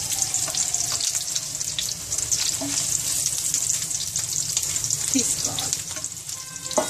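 Paneer korma ingredients fry in hot oil with a steady, close sizzle and occasional stirring scrapes, while a voice speaks briefly over the cooking.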